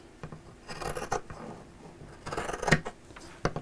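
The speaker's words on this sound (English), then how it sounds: "So let's trim that so that it's square." Scissors snip and trim fabric lining square at a sewing table, a few quiet cutting and rasping strokes in bursts, close and faint, with no voices.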